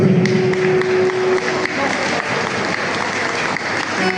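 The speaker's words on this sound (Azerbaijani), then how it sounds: "Sazı bir rəhmətlə alqışlayaq" Audience applause after a saz performance at a Tovuz gathering, many hands clapping densely and steadily throughout, with a sustained tone and some chatter audible underneath.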